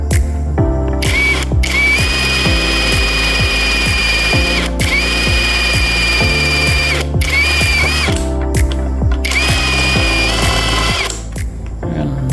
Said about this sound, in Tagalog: Bubutasan muna natin siya ng barena.